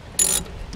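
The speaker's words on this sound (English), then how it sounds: "Tighten those slider pin bolts up a little bit" Brake caliper slider pin bolts being tightened while changing brake pads, a single short ratcheting burst of clicking lasting about a fifth of a second, close and fairly loud, with no talk.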